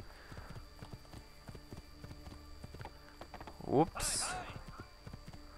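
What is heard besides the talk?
horse hooves clip-clopping in video game Assassin's Creed 2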